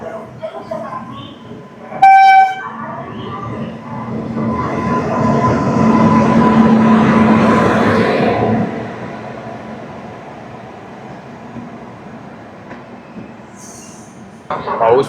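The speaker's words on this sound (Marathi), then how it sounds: "प्लॅटफॉर्म नंबर 2ला जनशताब्दी आलेली आहे." The Jan Shatabdi Express pulls into platform 2 on the Konkan Railway in monsoon rain: a short horn blast, then a loud swelling rumble of wheels and carriages that peaks and slowly fades, with a faint squeal.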